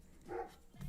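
A pet dog barks and yips in the background, a couple of short sharp bursts rising at the start and again near the end, fairly faint and unaccompanied by talk.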